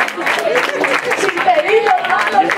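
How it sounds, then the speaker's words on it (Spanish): Crowd applause and cheering at a live concert in a small venue, a loud, continuous roar of clapping with voices mixed in. "un aplauso porque no ha salido la ruleta"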